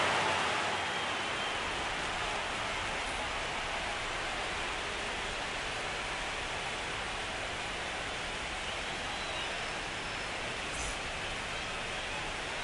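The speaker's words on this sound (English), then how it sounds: "We are officially in a rain delay as they'll put the tarp on the infield and hope this one passes quickly." Steady, dense rain hiss from MLB The Show 25 fills a ballpark during a rain delay. It is a constant broadband wash throughout, with no talk over it.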